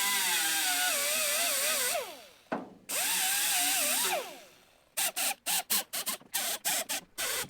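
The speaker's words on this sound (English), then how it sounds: "I just got a brown fiber die grinder. Just gonna expose each one of these spot welds" A die grinder whines loudly as it cuts into spot welds on a Ford Foxbody roof in a parking lot. Two long wavering cuts are followed by a rapid series of short on-off bursts.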